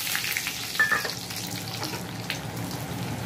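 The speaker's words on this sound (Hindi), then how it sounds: "अब इस दाल को मेरे को इस तेल में 2 से 3 मिनट के लिए फ्राई करने हैं" Moong dal frying in hot oil with mustard seeds, a steady close sizzle with a brief louder burst early on and scattered crackles throughout, no voices.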